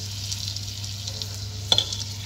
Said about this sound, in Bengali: মেদু বড়াগুলোকে ভাজবো